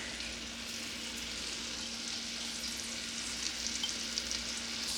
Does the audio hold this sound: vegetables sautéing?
yes